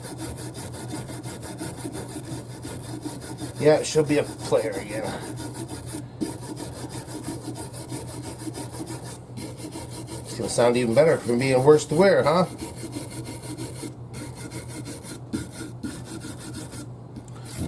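Scratchy brushing strokes rasp against a fire-damaged Danelectro guitar in two short bursts, with someone talking between them over a low hum.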